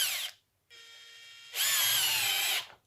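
A power drill drives a screw, sounding in two sustained bursts with a brief pause between them, the second louder and harsher as the screw bites; loud, close and with no talking.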